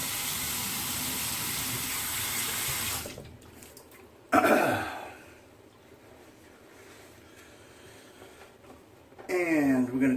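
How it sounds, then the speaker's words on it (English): Tap water runs steadily into a sink for a few seconds while a man rinses his face during a shave, followed by splashing and dripping sounds, then quieter handling and a brief spoken phrase. "Rinse my face off again."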